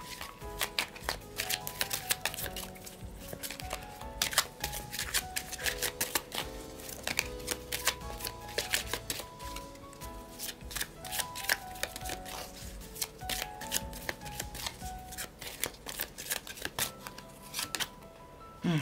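Oracle cards being shuffled by hand, a busy run of crisp riffling and slapping card sounds that keeps going with short pauses, close and fairly quiet.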